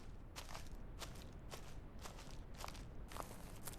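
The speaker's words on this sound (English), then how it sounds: "I can kind of hear my footsteps." Footsteps in the survival video game Gold River Project, a quiet, steady run of light steps spaced roughly half a second apart over a soft background hiss.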